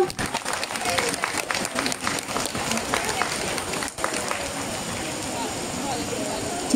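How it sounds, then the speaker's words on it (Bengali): A crowd in a hall applauds drama performers after a stage show. The clapping is loud, dense and steady, with a brief dip near the middle, and voices mix faintly into it. "একটা জোরে হাততালি হয়ে যাক সবারই জন্য"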